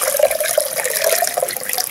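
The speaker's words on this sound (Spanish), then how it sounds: "La vamos a pasar aquí por un colador." Cooled water from boiled bougainvillea flowers is poured through a kitchen strainer, giving a steady close trickling and splashing stream throughout.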